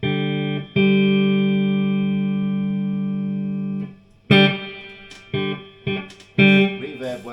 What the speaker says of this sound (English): Reverb works well.